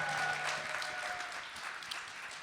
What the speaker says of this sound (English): That is worth an applause.